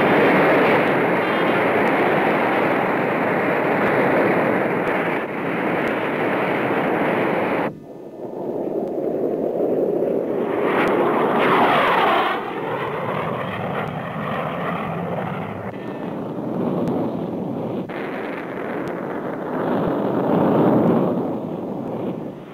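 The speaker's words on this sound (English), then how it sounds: "the sounds of Art Arfons attacking the Bonneville Salt Flats at 576 miles an hour" Art Arfons' jet-powered land speed car runs at the Bonneville Salt Flats at 576 mph in 1965, a loud, continuous roaring jet rush with wind noise, dipping briefly and then surging again across a long pass.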